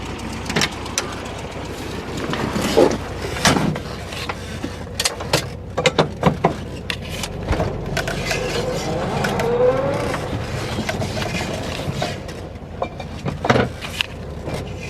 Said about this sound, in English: Let's go drive down the driveway and warm it up.